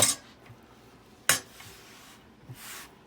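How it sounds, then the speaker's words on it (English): A cutting board wiped off in a home kitchen while making barbecue bacon cheeseburger tacos: a few sharp close knocks and clinks, then a soft brushing swish, all fairly quiet with no talking. "Just keep focusing on that while I wipe my cutting board off here."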